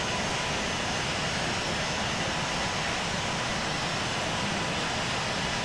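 Steady broadband roar of an airliner taking off from runway 27 right at London Heathrow, a continuous distant rumble with no voices.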